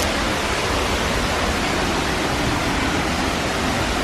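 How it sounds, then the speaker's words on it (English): A loud waterfall at Ferne Clyffe State Park roars as a dense, steady broadband rush, close and unbroken, with no voices over it. "That is a cool waterfall"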